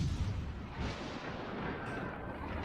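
Warship main guns firing in the naval combat game World of Warships: Legends, a dense rumbling barrage of deep booms rolling together for a few seconds, fairly quiet and with no talk over it.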